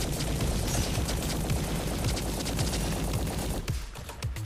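Rapid automatic gunfire from a weapon in Roboquest VR, a loud, dense stream of shots that runs almost unbroken before briefly easing near the end.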